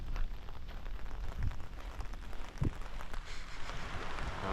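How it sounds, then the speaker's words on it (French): Heavy rain pours onto a beach on Yakushima, a steady hiss of drops across the whole stretch with a couple of low thumps; no one speaks. "mais il pleut beaucoup"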